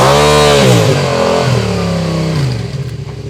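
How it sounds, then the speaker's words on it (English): A Yamaha MT-07 motorcycle with an Akrapovic exhaust, revved hard close by, its loud roar sweeping up and then falling away before settling into a rougher, pulsing idle. "It has an Acra on it, so it does sound a bit better than the standard"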